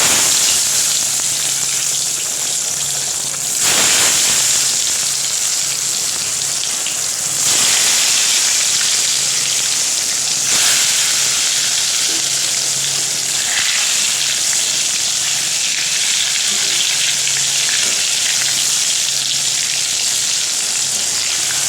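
Eggplant and bitter gourd slices frying in a pan, with a loud, dense sizzle running unbroken throughout and a few brief surges as pieces are moved or added.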